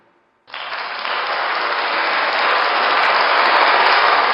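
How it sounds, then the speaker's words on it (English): Comedy show audience breaking into applause, a sudden burst of dense clapping that starts abruptly and swells louder, sustained and full throughout. "Oh, I get applause just for saying thank you."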